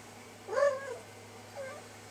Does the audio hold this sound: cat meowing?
yes